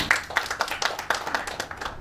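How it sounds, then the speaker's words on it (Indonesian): Scattered clapping from a small audience at an Indonesian ceremony honouring the Eljohn Indonesia foundation, irregular hand claps blending into light applause for about two seconds. "tepuk tangan untuk Eljon"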